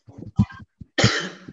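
A man, a teacher addressing schoolchildren, coughs in a quick series of harsh close bursts, ending in a longer rasping cough, with short pauses between.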